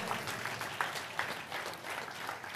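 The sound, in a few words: congregation clapping in praise to God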